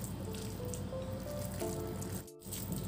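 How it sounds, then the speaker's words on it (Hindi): Chicken mixture for steamed rice balls being stirred together with cornflour and cardamom powder gives a steady wet squishing and sticky churning, close and continuous with a brief pause near the end and no talk. "अभी उसको मैं मिक्स कर देता हूँ"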